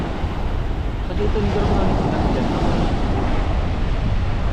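Constant roar of wind buffeting the microphone over crashing Pacific Ocean surf, loud and unbroken throughout.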